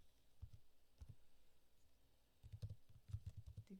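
Keys clack on a computer keyboard as a command is typed in, a few scattered taps followed by a quicker run of close, soft keystrokes.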